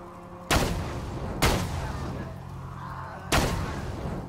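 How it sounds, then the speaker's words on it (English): Enemy gunfire in the video game Borderlands 2 comes as three sharp, loud shots spaced irregularly, each with a short ringing tail over a low background hum. "Who's shooting at me?"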